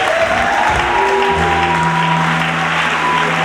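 A church congregation applauds and acclaims the Lord at an evening service, steady loud clapping filling the whole stretch with a held organ or keyboard tone underneath.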